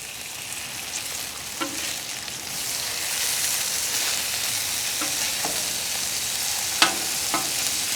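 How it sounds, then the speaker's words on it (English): Sausages frying on a Weber Traveler 22-inch portable griddle give off a steady, close hiss, with a few faint clicks and taps from a utensil over the sizzle. "So let's flip these sausages."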